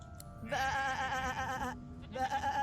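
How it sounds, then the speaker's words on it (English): Sheep bleating in the video game Divinity Original Sin 2, two loud, wavering bleats close by, the first long and the second starting after a short pause. "Shaking her fluffy coat, the sheep eyes you balefully"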